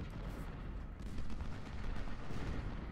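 Rolling gunfire and artillery rumble from a battle in the Ultimate General: Civil War video game, a dense, continuous mix of distant booms and crackling volleys, fairly faint and with no talk.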